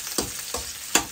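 Garlic sautéing in a hot pan, with three sharp sizzling bursts as it is stirred or tossed, close and fairly loud with no one talking.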